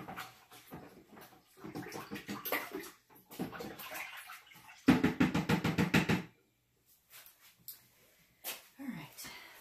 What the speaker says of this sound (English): Let me rinse it out real quick though, because I like to start with them clean.